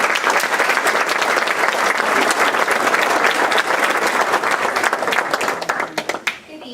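An audience at a Pasadena ISD school board meeting applauds students, with dense, steady clapping running for several seconds before it thins out and fades toward the end.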